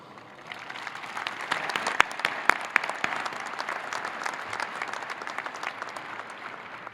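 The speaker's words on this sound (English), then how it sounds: "Please join me in giving them a round of applause." Audience applause for teachers at a high school graduation ceremony, a steady, dense wash of clapping from a large crowd with a few sharper nearby claps, sustained throughout at moderate level.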